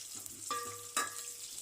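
Sliced onions fry in hot tempering oil for a drumstick curry, giving a soft, faint sizzle with a couple of stirring scrapes.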